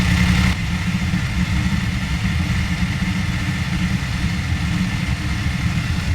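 A motorcycle engine idles in neutral with a steady, close, low rumble and even pulsing throughout, with no talk over it.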